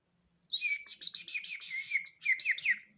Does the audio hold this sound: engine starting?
no